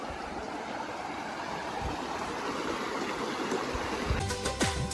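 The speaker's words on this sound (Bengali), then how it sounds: "সাউন্ডটা দেখো জলের।" A steady, close rush of river water flowing past a riverside homestay in North Bengal, broadband and continuous, with a few faint knocks and a brief tonal sound near the end.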